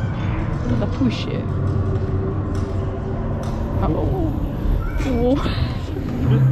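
A cat figure meows on the Danse Macabre dark ride at Efteling, a few short wavering cries rising out of loud, steady ride noise and music, with riders talking throughout.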